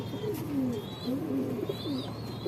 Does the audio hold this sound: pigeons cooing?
yes